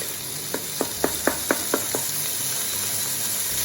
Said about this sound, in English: Next goes in our bacon pieces. Get that sizzling away straight away.